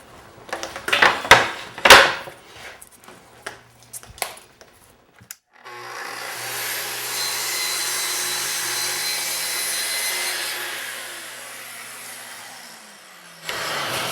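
Saw cutting wainscoting trim at a miter, heard as a close, loud, steady power-tool whine lasting several seconds after a few sharp knocks and clatters of handling, then winding down.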